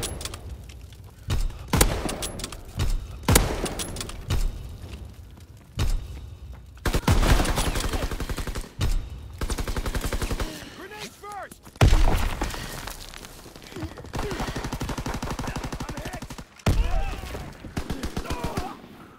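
A Grease Gun submachine gun fires in a video game as loud, rapid bursts that repeat across the stretch, separated by short pauses and mixed with scattered battle noise.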